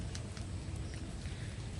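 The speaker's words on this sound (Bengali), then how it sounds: "একদম ঝিরিঝিরি বৃষ্টি হয়ে যাচ্ছে।" Light drizzle patters steadily on tree leaves on a cool morning, a soft continuous hiss with faint scattered drops and no voices.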